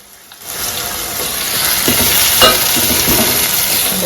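Two tomatoes go into hot oil in a pan while a crab curry is being cooked, setting off a loud, steady sizzle that swells after a brief silence and carries on with stirring scrapes.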